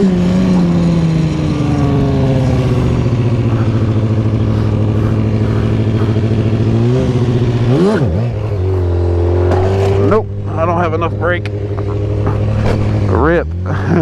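A stunt motorcycle engine revs hard and steadily up close, its pitch sweeping up and down in several surges before dropping back to a lower, rougher idle.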